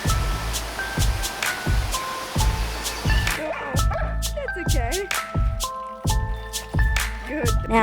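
Dogs bark repeatedly in a quick, steady rhythm near Varenna on Lake Como, the sharp barks close by and loud.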